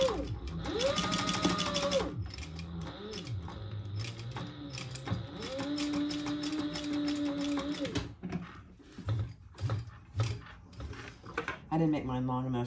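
A sewing machine topstitching a fabric wristlet a little over an eighth of an inch from the edge. It runs close and loud in stop-start bursts of rapid stitching, with short pauses between runs.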